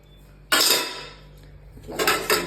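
Metal utensils clatter loudly as they're dropped or set down, a sharp crash followed by a second burst of clanking, no talking.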